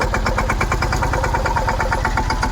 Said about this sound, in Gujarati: અમારે મુનાભાઈ ટ્રેક્ટરનું ડ્રાઇવિંગ ચાલુ કર્યું છે